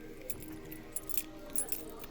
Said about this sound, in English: as you can tell from the background noise, my keys were quite loud